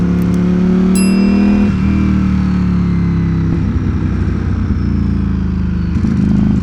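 A Ducati Streetfighter V4 motorcycle engine drones steadily and loud while riding, its pitch dropping and rising again through several gear shifts, with no voices over it.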